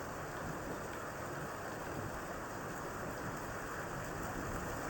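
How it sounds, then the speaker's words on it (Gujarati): Rain pours down steadily, a dense unbroken wash of sound with no voices. "વરસાદ શરૂ છે કન્ટિન્યુ એમનું"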